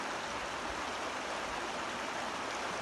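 A river rushes steadily, a constant broadband wash of flowing water with no breaks, moderately loud and even from start to finish.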